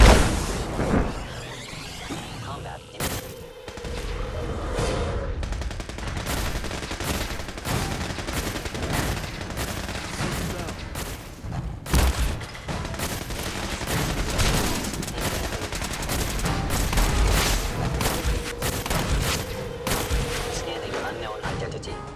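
Steady, rapid gunfire crackles without a break as a synth squad fights a Gator Claw in Fallout 4, with many sharp shots and bursts layered over game ambience and occasional heavier booms.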